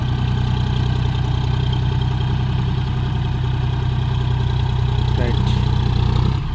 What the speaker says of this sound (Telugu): స్టార్ట్ అయింది ట్రాక్టర్ అయితే.